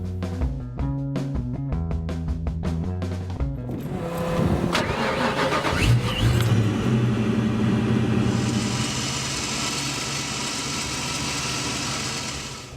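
Ford Mustang Fox Body cranking with a fast starter chatter, then catching and settling into a steady, close, throaty idle that runs on to the end without any talk.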